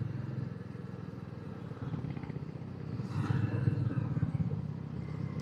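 Royal Enfield Meteor 350 motorcycle cruising along a road, a steady low engine drone with wind rumble that swells slightly louder midway, continuous and close throughout.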